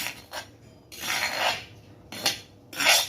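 Crushed empon-empon spice roots are stirred and mixed in a pot, giving four bursts of scraping, rubbing rattles against the pot, separated by short pauses, close by.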